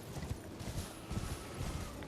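A horse gallops in Elden Ring, its rapid rhythmic hoofbeats thudding steadily over a dense bed of game ambience and battle noise.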